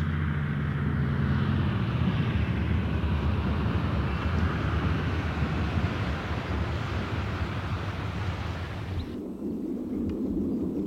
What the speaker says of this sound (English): Philippe decides to bring the plane down near one of the Shilluk tribal villages